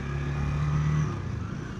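A Honda Rebel 250 motorcycle engine pulling in a low gear, a close, steady droning hum that rises briefly in pitch and then eases off.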